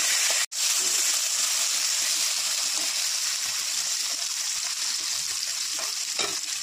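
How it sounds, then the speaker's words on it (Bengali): Potatoes fry in hot oil in a home kitchen, giving a steady, even sizzle with a sharp click early on and light stirring sounds toward the end. "আলু তো লাল লাল করে নিলাম ভেজে।"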